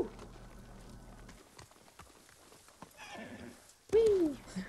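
In the video game Ghost of Tsushima, a horse whinnies loudly near the end, following scattered hoofbeat-like thumps and rustling while galloping downhill, with a brief voice in the background.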